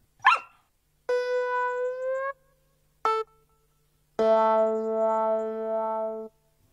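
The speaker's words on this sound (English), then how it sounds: "It's Little Dog Fido." A small cartoon dog in a children's television show gives a short yip, then long, tonal, howl-like barks separated by gaps, clear and close with no other sound behind them.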